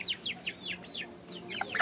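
A chicken, one of several being colored at a village home, gives a quick series of short, high chirping clucks, fairly close and repeated in an uneven rhythm with no talk.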